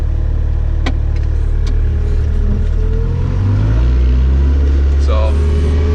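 A Bobcat skid steer fitted with a 10-foot bucket plows snow, its engine giving a loud, steady low rumble that rises in pitch partway through as it revs, with faint clicks and scrapes on top.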